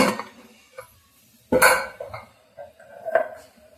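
A few sharp metallic clanks and scrapes as a heavy pressure cooker lid is handled and lifted after the steam is released, with quiet gaps between the knocks.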